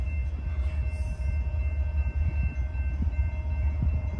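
Low, heavy rumble of a train led by a Dash 8 locomotive rolling past in Muncie, with a steady mechanical drone and intermittent knocks, fairly close and sustained throughout.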